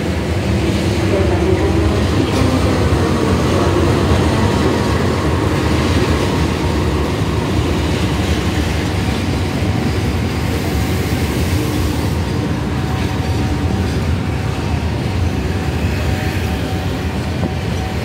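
Train noise on platform 6 of Pasar Senen railway station in Jakarta, a steady broadband rumble of rail traffic lasting throughout with a faint tonal hum and no clear talk.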